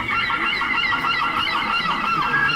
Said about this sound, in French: Ça, c'est une mouette rieuse.